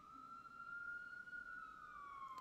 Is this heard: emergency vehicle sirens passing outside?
yes